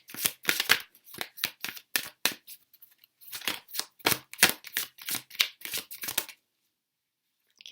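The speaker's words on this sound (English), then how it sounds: "let's get some of these cards out." Tarot cards being shuffled by hand in a run of quick, crisp riffling bursts, close and fairly loud, pausing briefly midway and then falling silent near the end.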